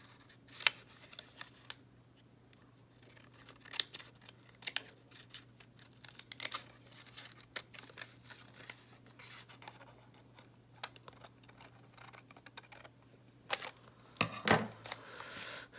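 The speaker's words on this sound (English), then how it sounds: "I need to cut the taped side off again" Scissors snipping through taped paper on a handmade water lily pop-up card, a scattered series of close, crisp cuts and rustles with quiet pauses between them.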